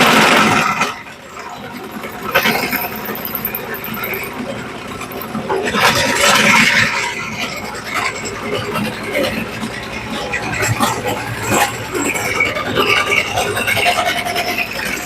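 A power tool bit cutting an angle into a metal pipe for welding, a steady grinding rasp with gentle pressure, continuous and fairly loud with slight surges, no talking.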